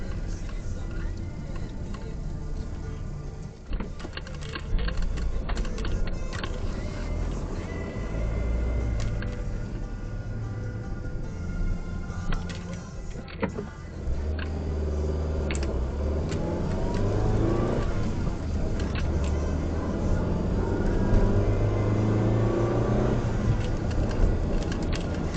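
A 2009 Mini Cooper drives along a road on a sunny day, its engine humming steadily with gentle rises in revs, road rumble underneath and occasional small clicks from inside the car.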